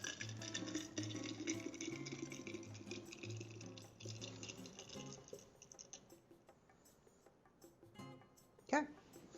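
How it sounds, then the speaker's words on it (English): A drink is poured into a tiki mug while making a rum cocktail, a faint trickle and patter of liquid running for several seconds, mostly alone and close by. "I'm just going to open pour this into here."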